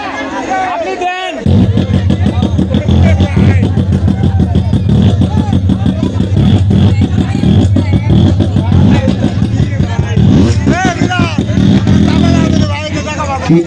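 A man vocally imitates a tempo auto-rickshaw engine starting and idling, a loud rapid buzzing putter sustained for several seconds close to the mic, with crowd chatter behind.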